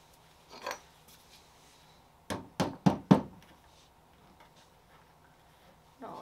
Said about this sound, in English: Else fails, knock it with the hammer.